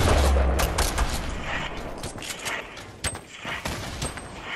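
Dense rapid gunfire bursts from a Fortnite Battle Royale squads match, loud and continuous with overlapping shots and booms, no talking.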